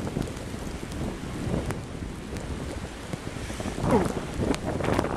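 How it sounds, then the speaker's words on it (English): Blizzard winds of about 50 miles an hour roar and buffet the microphone in a backyard during a December snowstorm, a loud uneven rush with gusts and no clear speech. "December snowstorm, December 26th, 50-mile-an-hour winds."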